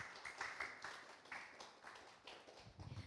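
Audience applause following a professor's opening speech at an academic forum in Jakarta, a steady patter of clapping from a crowd in a hall, moderately loud and continuous throughout without talk.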